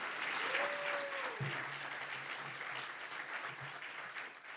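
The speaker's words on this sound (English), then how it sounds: "Let's have a round of applause for all of our award winners tonight." Banquet audience applauding award winners, a dense steady wash of clapping that runs throughout, with a tonal sweep and low hums sounding briefly beneath it.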